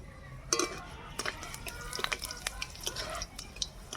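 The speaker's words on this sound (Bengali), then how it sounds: "ফোড়নে দেব পাঁচ ফোড়ন শুকনো লঙ্কা" Panch phoron seeds and dry red chillies temper in hot oil, giving faint, scattered crackles and spits with a light stir or two, heard close but quietly.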